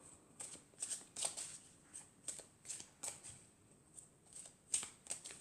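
Tarot oracle cards shuffled by hand in repeated soft riffling bursts, quiet and close, with short papery flicks spaced about every half second and no talking.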